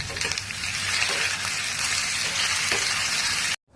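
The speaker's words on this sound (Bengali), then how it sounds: "আলুটা পেঁয়াজটা দিয়ে দিলাম। এবার একটু নুন ছড়িয়ে দেবো। এবারে এটা আমি ভাজতে থাকবো।" Potato and onion sprinkled with salt frying in a pan, a loud continuous sizzle close up that cuts off abruptly at the end.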